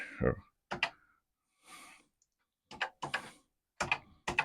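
Keys typed on a vintage Commodore PET 8-bit computer keyboard, which may be a little wonky: a few separate clusters of sharp, close clacks, several landing in quick pairs, with short pauses between them.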